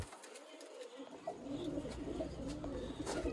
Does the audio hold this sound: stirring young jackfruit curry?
no